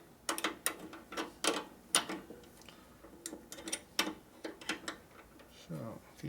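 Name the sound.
tightening double jam nuts with wrenches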